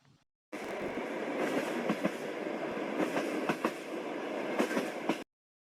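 A passenger train rolls steadily past with rhythmic clickety-clack of wheels over rail joints, a continuous rumbling wash lasting several seconds, played for a children's pretend train ride.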